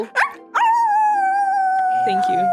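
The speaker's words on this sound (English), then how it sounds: "With its last ounce of strength, the majestic wolf gazed heavenward and unleashed a mighty howl." A wolf in the video game Okami unleashes a long, loud howl that rises and then holds a steady sustained tone, preceded by two short yelping cries, with no talk over it.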